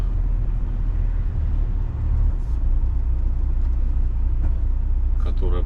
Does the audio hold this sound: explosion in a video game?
no